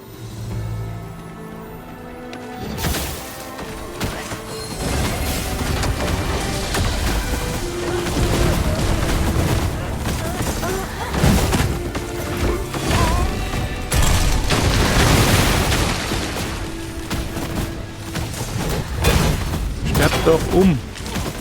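Explosions and heavy combat noise in the action role-playing video game Dragon's Dogma II, fighting zombies during an island evacuation, with dense continuous rumble and repeated booming bursts under someone talking.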